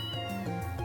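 Antoine the cat meows in the video game Trails in the Sky SC, one drawn-out meow with a short second call, clear and close, with no talking over it.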